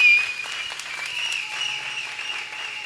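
A church congregation applauds together, a dense, steady wash of clapping that holds at a constant level for a few seconds with no voices standing out.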